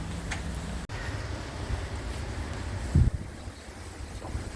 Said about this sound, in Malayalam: കാറ്റ് അതിൻ്റെ ശക്തിയിൽ വീണ്ടും തുടരുകയാണ് അതെല്ലാം മരങ്ങളെല്ലാം അടിപ്പിച്ച് തെറിപ്പിക്കുന്ന കാറ്റാണ്